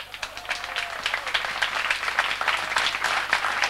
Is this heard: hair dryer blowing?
no